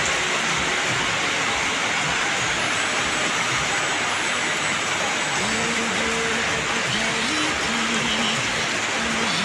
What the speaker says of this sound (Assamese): তামাম বৰষুণ দিছে